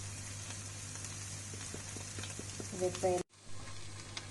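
Paneer and vegetables frying in a pan give a steady, soft sizzle close by, with a low hum underneath and a brief voice near the end.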